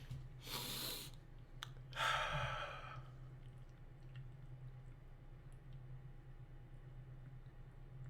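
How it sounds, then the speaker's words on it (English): A person blows their nose twice in quick succession, two short breathy bursts close to the mic, followed by a quiet room with a steady low hum. "I'm just blowing my nose."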